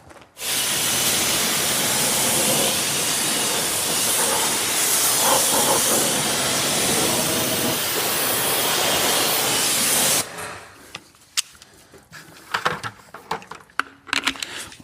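A pressure washer hose rated around 1,000 PSI and 2.3 gallons per minute sprays in a loud, continuous hiss for about ten seconds, then cuts off, leaving dripping and scattered clatter.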